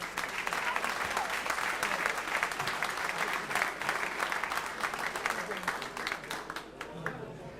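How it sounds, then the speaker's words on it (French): A boxing event crowd in Paris breaks into sustained applause, dense clapping from a large audience that holds steady for several seconds and then tapers toward the end. "ils méritent encore une fois vos applaudissements"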